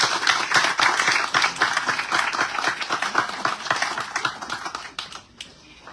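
An audience at an embassy orientation event for incoming doctors claps for working mothers in a brisk burst of close, dense applause that thins out and stops after about five seconds.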